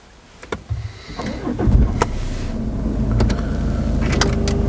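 Used Jaguar car started with the push button while the foot is on the brake: a few clicks and clunks, a short starter whir, then the engine catching and settling into a steady idle close by, with no talking.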